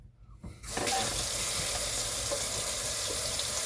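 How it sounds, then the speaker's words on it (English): Water runs from a tap into a sink, starting after a quiet half second and then holding as a steady, loud, continuous splashing rush with no talk over it. "I don't know how much you'll be able to hear me over the running water"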